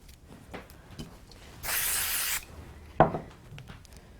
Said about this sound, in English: I'm just going to do a quick spritz of the back of this one with some glue